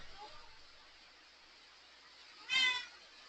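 A cat gives a single short, fairly loud meow indoors against a soft background hush while a storm goes on outside.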